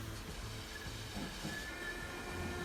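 A tram rolls along its track in the Transport Fever 2 simulation game, giving a steady low rumble with faint wheel squeal and clatter and no talk over it.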